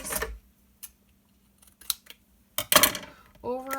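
A few sharp scissor snips click at irregular intervals, with brief bits of talk near the start and end.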